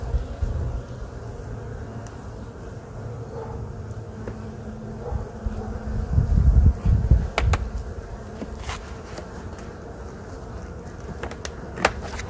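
Honey bees buzz around wrapped backyard hives in a steady, low outdoor hum, with a few louder swells as bees pass close and faint handling noises in between.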